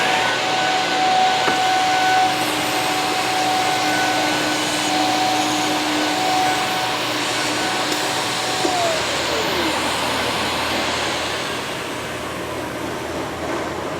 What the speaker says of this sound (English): And then this is a little vacuum here.